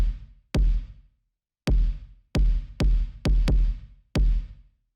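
Punchy drum-machine style kick drum for breakbeat techno, struck alone in an irregular pattern of seven loud, boomy hits with short decaying tails and silent gaps between.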